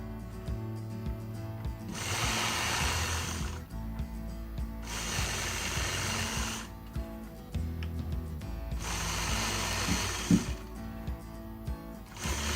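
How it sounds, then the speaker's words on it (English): A sewing machine stitching curved point-to-point quilting lines with a ruler runs in loud whirring bursts of about two seconds, separated by quieter pauses of mechanical clicking. "now I'm going to switch and use my mini 4-in-1 machine quilting ruler and stitch curved point-to-point lines"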